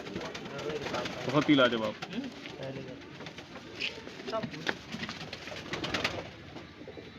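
Desi high-flyer pigeons of the burre type coo and call at a summer flying tournament in Bareilly, Uttar Pradesh. The repeated soft coos sit close by, mixed with a voice and crowd noise.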